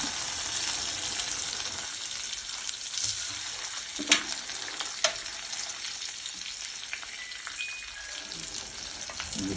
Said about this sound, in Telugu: దీంట్లోనే ఆనియన్ ఇట్లా వేసేస్తాం. ఆనియన్, పచ్చిమిరపకాయలన్నీ ఒకటేసారి